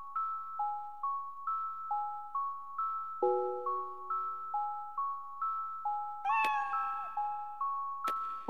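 A cat meows repeatedly in the video game Echo Night: Beyond, with soft, evenly spaced calls sounding over a steady music-box-like chiming melody and a bright chime near the end.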